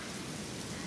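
Steady rain falls in Toba, Mie, Japan, a dense, even patter of drops on surfaces, constant and moderately loud, with no voices.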